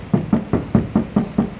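Knuckles rap seven times in an even rhythm on the untreated rear door panel of a Honda Civic G10, each knock a dull, hollow thud, close and clear with no talking.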